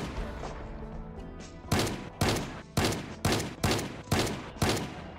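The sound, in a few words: shotgun firing in the video game Project Zomboid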